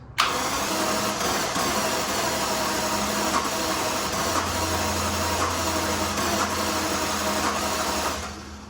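A Jaguar XJS engine cranking as it tries to start, a continuous loud mechanical whirr held steady for several seconds before cutting off, with no talk over it.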